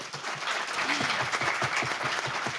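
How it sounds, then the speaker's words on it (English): An audience at a panel event on Pakistani democracy gives a round of applause, with steady, moderately distant clapping under a faint murmur of voices. "So a round of applause for them."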